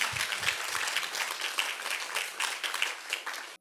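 A congregation at a mountain prayer-house revival meeting gives God a round of steady, crowded clapping that rolls on evenly and then stops abruptly, with a few low thumps at the start.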